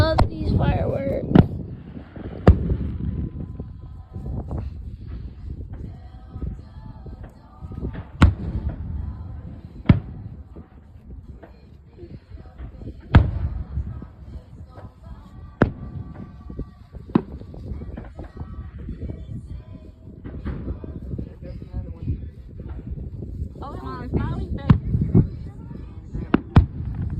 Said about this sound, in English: Oh, I love these fireworks.